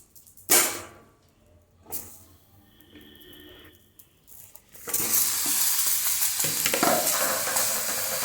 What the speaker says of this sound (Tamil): கடாயில் இந்த மாங்காவை தூக்கி போட்டு கொஞ்சம் தண்ணியும் ஊற்றி